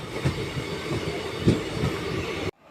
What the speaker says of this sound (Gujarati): આપણી ટ્રેન પહોંચી ચૂકી છે લુણીધાર સ્ટેશન પર